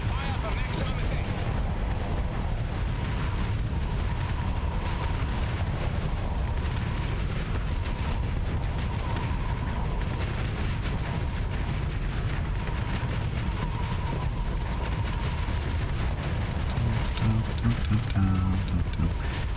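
Ship weapons fire in the Starsector space combat game with Star Wars mods, a dense, continuous barrage of booming shots and blasts rolling on for the whole stretch, loud and steady with a low rumble underneath.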